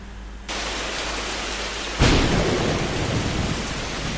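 Thunderstorm in an anime episode: steady heavy rain hiss starts, then a loud thunder crack lands and rumbles on under continuing downpour, with no voices.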